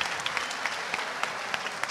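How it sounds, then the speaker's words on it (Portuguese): Audience applause for William Grasel after his JavaScript performance talk at the Intercon 2018 conference, a steady wash of many hands clapping at a moderate, slightly distant level with no voices. "Salva de palmas para o William Grazel"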